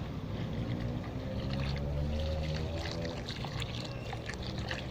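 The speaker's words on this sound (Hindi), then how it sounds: "जिस तरीके मैंने ये पानी भर दिया है" Water being poured into a large bucket, a steady gurgling splash with rising tonal bubbling, moderately loud and continuous throughout, no speech.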